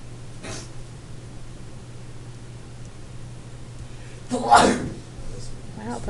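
A single sneeze partway through a quiet chemistry tutoring session, short and fairly close, with faint breathing before it and low room hum throughout.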